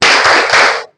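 A class claps together for the Tepuk kodi cheer, a loud dense burst of hand claps in a few quick pulses that cuts off abruptly after under a second.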